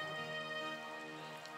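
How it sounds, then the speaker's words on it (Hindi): Steady rain falls during an outdoor Bhagwat katha gathering, a faint continuous patter with a mechanical tonal hum running underneath and no clear voices. "बारिश आ गई है"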